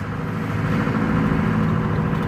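A Ford Transit van's exhaust drones low and steady close by, a continuous engine note with no voices over it.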